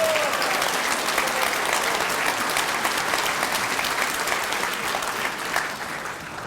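Audience applause at an all-candidates town meeting, a steady sustained clapping from a seated crowd that holds evenly for several seconds and eases slightly at the end.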